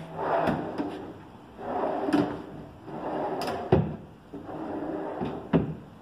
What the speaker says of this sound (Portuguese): Gavetas com telescópica.